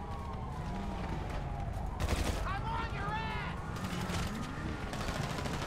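Gunfire from single shots fired one at a time in GTA 5, crackling bursts over game sirens and background noise while people talk throughout.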